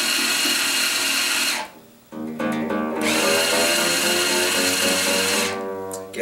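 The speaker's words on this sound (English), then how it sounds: "I'm going to end up bringing back out my Ernie Ball winder, and I'm going to tighten that baby up." An Ernie Ball powered string winder tightens classical guitar strings with a loud, close, whirring motor drone, pausing briefly before spinning up again and dropping off near the end.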